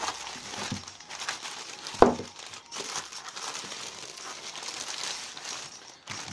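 Packaging crinkles and rustles as a parcel holding an axe is opened, with a sharp tear or snap partway through and softer crumpling around it.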